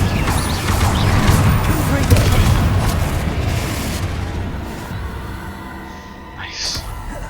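A fire spell cast in the Hogwarts Legacy video game bursts out amid a dense, loud wash of combat effects, rumbling booms and clattering mechanisms, with a voice speaking over the chaotic battle noise.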